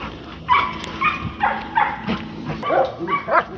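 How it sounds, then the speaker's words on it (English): Merle-coated English bulldog giving repeated short barks and yips, close by, with whimpery tones between the barks. "She's an English bulldog"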